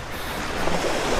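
Surf washing steadily onto Sedayu's black-sand beach in North Lombok at sunset, a continuous close roar of breaking waves mixed with some wind.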